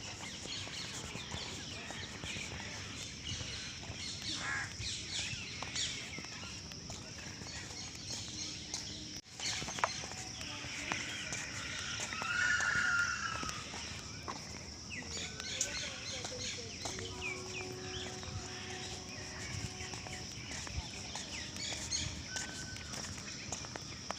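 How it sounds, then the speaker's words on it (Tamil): Parrots and other birds call repeatedly around an early-morning walking spot, their chirps and squawks scattered at mid distance over steady outdoor ambience, with footsteps and occasional voices nearby. "இங்கே ஒரு பறவை க கத்திக்கிட்டே இருக்கும்"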